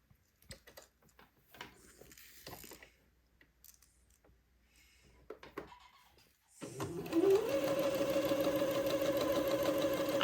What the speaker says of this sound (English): Now I need to sew 2 basting threads.